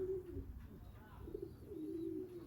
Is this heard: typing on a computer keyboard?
no